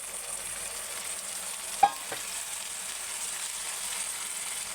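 Chicken tipped into browned fried onions in a pan for green chicken, giving a soft steady sizzle with one sharp clink of a spoon against the pan and a brief stir, quiet and with no talking.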